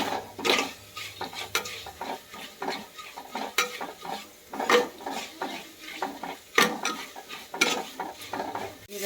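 Turmeric and chili powder roasting in a pan for Kerala puliyinchi, a soft sizzle beneath frequent sharp clinks and scrapes of a metal spoon stirring against the pan.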